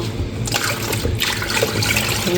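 Muddy rinse water from washing vegetables for pickles is poured out, a continuous splashing gush with short trickling breaks over a couple of seconds.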